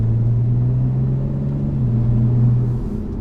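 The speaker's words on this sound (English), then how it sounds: "Hitting a couple downshifts here, you can hear it really starts to wake up just a little bit." A B9 Audi S4/S5 with a resonator-delete exhaust and closed valves downshifts, giving a steady low droning rumble that swells slightly toward the end, heard from inside the cabin without talk.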